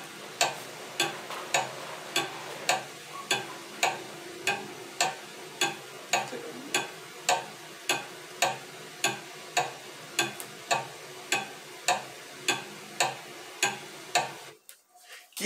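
A clock ticks steadily, with sharp, evenly spaced clicks at about two per second that are close and clear, then the sound cuts off abruptly at the end.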